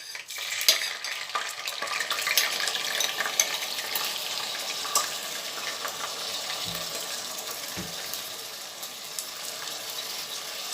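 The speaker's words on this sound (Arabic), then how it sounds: "واشوح الرز بتاعي في السمنه كويس، اشوحه." Rice sautéed and stirred in hot ghee for an Egyptian béchamel rice casserole, a steady close sizzle with a scraping stir and a couple of soft low knocks, no talking.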